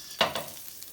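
Ginger frying briefly in a pan for a shrimp dish, a quick stirring scrape followed by a second softer swipe over a light sizzle, close and without speech.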